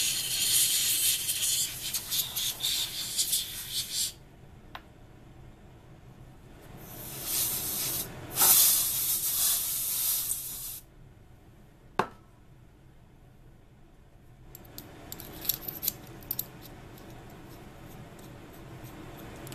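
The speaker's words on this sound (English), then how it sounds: "At this point, with compressed air," Compressed air blows out a cleaned 1152 probe in several sharp, loud hissing bursts separated by quiet gaps, with small clicks and handling knocks between them.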